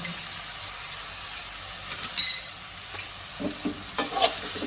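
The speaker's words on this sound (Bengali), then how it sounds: "এবার আমি মশলাটাকে ভালো করে কষিয়ে নেব" Spices (salt, turmeric, chili powder) frying with fish in a pan for a Bengali fish curry, a steady hiss of sizzling broken by a few scraping stirs and clinks of a utensil.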